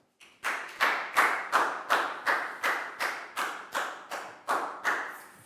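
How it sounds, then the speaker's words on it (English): A primary school class claps for a student in a slow, even rhythm: about a dozen loud, distinct, evenly spaced claps in unison, close by, with no talking. "And a big round of applause for Net"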